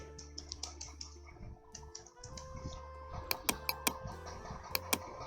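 Keys clatter on a computer keyboard while text is typed into an Excel spreadsheet, with quick irregular taps that bunch into a sharper burst toward the end, close and moderately loud over a low steady hum.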